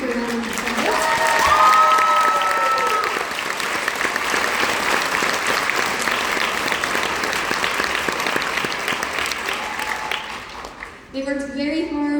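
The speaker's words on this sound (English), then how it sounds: "Will you please stand for a round of applause?" School audience applauding honor band students, a sustained burst of clapping with a few cheers, loud and steady for about ten seconds, with a voice over the start and talking resuming as it fades.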